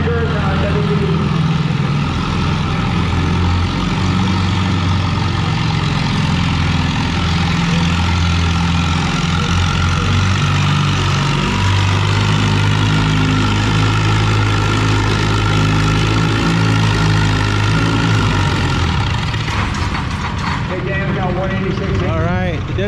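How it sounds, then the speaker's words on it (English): Tractor engines roar at a tractor pulling competition at the NW Fall Nationals, a loud, steady, heavy drone with deep harmonic rumble and straining pitch, continuous for over twenty seconds, fading slightly near the end, with an announcer talking over it. "there's still a few tractors down there in this class"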